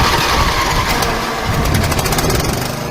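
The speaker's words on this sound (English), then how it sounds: "Guy hops on a riding mower and cuts the grass at cemeteries" A riding lawn mower's engine runs steadily and loudly throughout, a continuous close mechanical drone with a rough, knocking texture and no talk over it.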